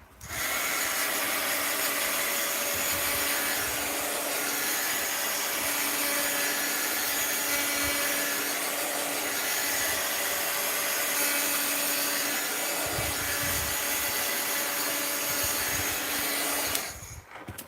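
A heat tool blowing over an art journal page, a loud steady whooshing whir that runs continuously for about seventeen seconds before cutting off, close and alone.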